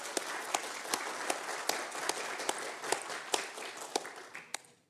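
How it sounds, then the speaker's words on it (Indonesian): Steady applause from a crowd at a press conference before the 2023 U17 World Cup final in Indonesia, many hands clapping with a few sharper claps standing out, fading away at the end. "Boleh berikan tepuk tangan yang meriahnya"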